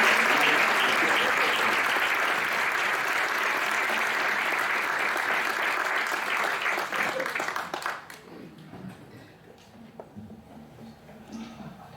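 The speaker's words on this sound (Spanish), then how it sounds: "podemos aplaudirle, ¿eh?" An audience applauds an architect coming on stage, dense steady clapping that fills the room for about eight seconds before fading to scattered claps and quiet room noise.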